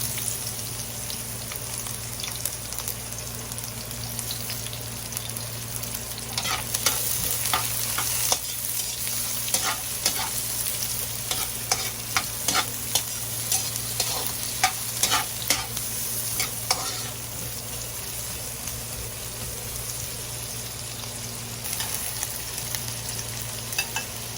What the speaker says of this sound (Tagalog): Igisa na po natin ang bawang, sibuyas,